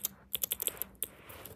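Quick, irregular clicks of fingers typing on a computer keyboard, close and crisp, in a short burst of several keystrokes with brief pauses.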